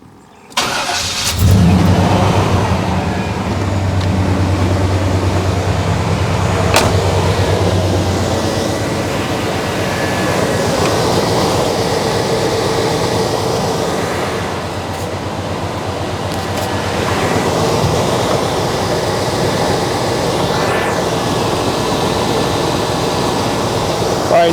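A car engine, just fitted with a replacement fan clutch, cranks over and catches, then runs at a steady, loud idle for over twenty seconds with a continuous mechanical drone and no talking.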